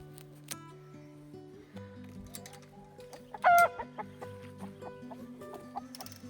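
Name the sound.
roosters clucking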